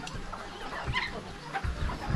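Backyard chickens raised for eating on a Thai farm give soft scattered clucks and short calls in a noisy outdoor setting, fairly faint and irregular over low rumbling background noise.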